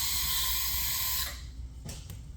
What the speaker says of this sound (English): Let's give it a spray of some carb cleaner.